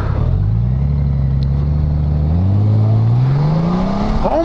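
A 2018 Honda Gold Wing motorcycle accelerates hard on the throttle, its engine note climbing steadily in pitch through a smooth rising whine, loud and close with wind rush.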